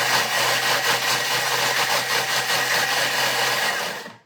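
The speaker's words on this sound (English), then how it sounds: "So that's going really fast and, really hard to grind up all those spices." A Thermomix running at speed 9 grinds spices for tandoori paste, giving a loud, steady high-pitched whirring roar that holds constant for about four seconds before cutting off abruptly.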